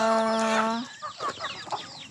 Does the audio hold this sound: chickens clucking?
yes